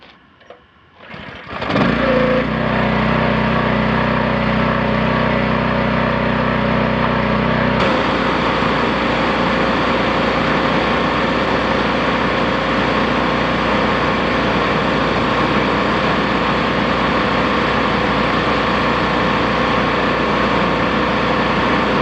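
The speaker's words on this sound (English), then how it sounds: "one final test, a side view with the gasoline powered power washer" A gasoline-powered pressure washer engine starts after a couple of quiet seconds, then runs loudly and steadily with a droning hum, shifting to a fuller, rougher tone partway through and continuing without pause.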